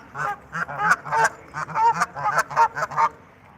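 Geese honk repeatedly in loud, overlapping bursts, a noisy flock calling close by at a lakeside with brief pauses between calls.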